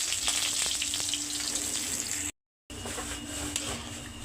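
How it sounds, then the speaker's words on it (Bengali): Chopped onion fries in hot mustard oil, producing a close, busy sizzle with crackles and occasional stirring clicks, briefly cut to silence midway, then resuming at the same level. "তেল গরম হয়ে গেছে, দিয়ে দিলাম পেঁয়াজ কুচি"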